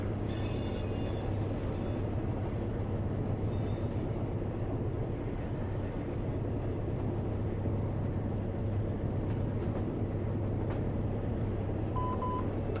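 A 5,900-ton CSX freight train with two locomotives rumbles along in Run 8, a steady low engine drone with brief higher tones and a beep near the end, no talking.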